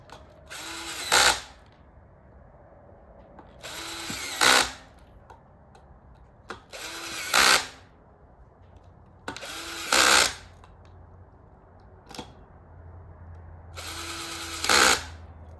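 A power drill with its clutch set to 15 tightens bolts on a rear hub e-bike motor in five short, close whirring bursts about three seconds apart, with faint ratcheting clicks in between.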